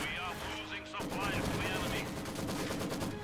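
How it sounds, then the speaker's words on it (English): Machine gun fire in the video game Company of Heroes 2, rapid rattling bursts of battle gunfire that carry on under a voice talking over the game. "And the machine gun does quite a lot of damage, especially when they're in the negative cover here."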